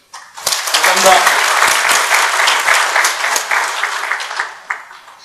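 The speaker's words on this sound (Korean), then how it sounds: "다시 한번 힘찬 경기의 박수 부탁드립니다" Loud applause from the audience at a hydrogen water seminar in Korea: clapping rises quickly, holds as a dense crowd roar for several seconds, then thins out toward the end.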